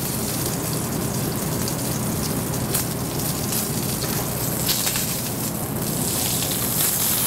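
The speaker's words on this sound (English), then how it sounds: "we're going to get it nice and hot so we can get a good sear and a seal to that" Ahi tuna searing in a very hot pan, a steady close sizzle and crackle with scattered pops, continuous throughout.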